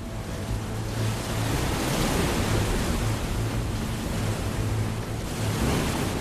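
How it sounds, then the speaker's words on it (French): Storm-driven ocean surf whipped up by hurricane-force winds, a dense continuous roar of crashing waves and rushing wind, loud and steady throughout with no voices. "Tandis qu'un ouragan se déplace au-dessus de l'océan, des vents puissants soufflent à la surface de l'eau."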